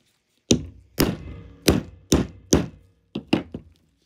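A stamp pressed into handmade soap bars to imprint a logo, giving seven sharp close thunks spaced roughly half a second apart, each with a short dull decay, loud and without talk.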